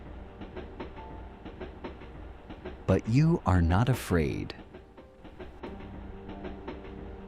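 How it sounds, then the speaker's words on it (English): A train travels through the night with a steady low rumble and soft rhythmic clatter throughout, while a calm voice narrates over the middle stretch. "It muffles the sounds of the train just slightly"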